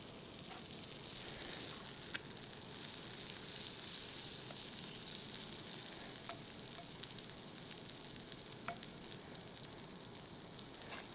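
Arepas frying in a pan over medium heat, giving a steady, quiet sizzle with small crackles and pops scattered throughout, no voices.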